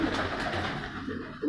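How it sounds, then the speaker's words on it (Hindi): Paired pigeons cooing close by in a short, soft, low rolling coo, with no talk over it. "इस वक्त हम उस्ताद इब्रार अहमद ख़ान के जो जोड़ों वाले कबूतर हैं वहाँ मौजूद हैं"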